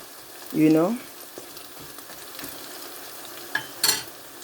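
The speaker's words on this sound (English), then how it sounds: "as the onions is frying, I will allow it to go a little bit golden brown" A steady, soft sizzle of onions frying in a pan, with a short tonal squeak near the start and a couple of faint clinks later.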